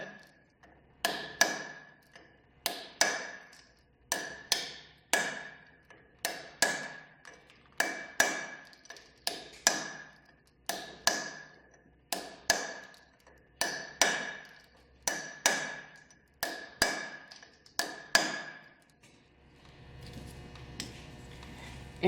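A heavy hammer drives a brass drift against the stud ends of a Toyota steering knuckle's cone washers, giving about sixteen sharp metallic strikes in a steady rhythm, close and loud, with a workshop rumble at the end.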